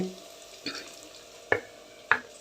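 Curry leaves dropped into frying lemon rice give three short, crisp sizzling bursts over a low background hiss in a home kitchen, each flaring briefly and fading.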